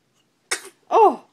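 A baby sneezes twice close up: a short breathy burst, then a louder, fuller sneeze with a slight voiced squeal, with silence in between.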